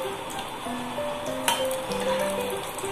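Cumin seeds with a piece of cinnamon and a small cardamom frying in hot oil for masala dum aloo, a steady soft sizzle with a few light metallic clinks of a spoon against the pan.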